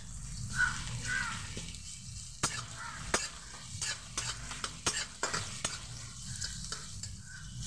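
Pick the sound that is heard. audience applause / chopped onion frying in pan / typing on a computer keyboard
chopped onion frying in pan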